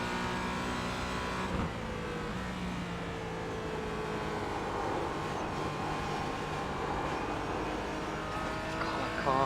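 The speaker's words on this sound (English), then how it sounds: "that car feels, just listening to it, just so unhappy through turn one, the bumps through there" A Porsche GT4 race car takes turn one at Sebring over bumpy track, its engine a steady, moderately loud drone with a strained harmonic whine that runs continuously throughout.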